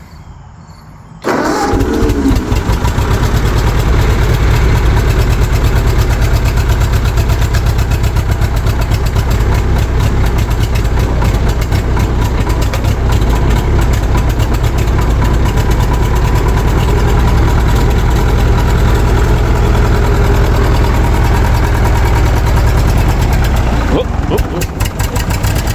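An old engine cold-starts with the choke held open and then runs at a loud, steady, rough idle with some throttle, close and continuous for over twenty seconds.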